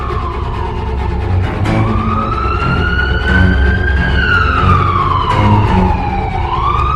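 A police car siren wails steadily in an animated horror story, its pitch sweeping slowly up and down, loud and close throughout with no talk.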